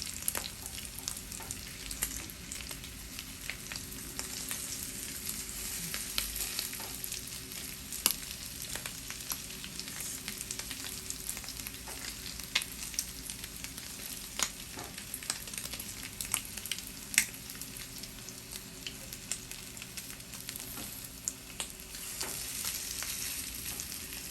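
Salmon burgers fry in a pan with a steady, close sizzle and frequent small pops and crackles, and no talk throughout.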